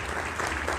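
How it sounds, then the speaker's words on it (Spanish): An audience at a world congress on childhood and adolescence in Bogotá claps continuously, a dense, loud wash of applause throughout the short moment. "Un aplauso."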